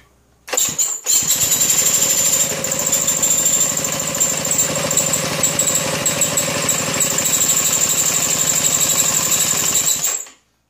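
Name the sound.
1932 Maytag hit-and-miss engine cold starting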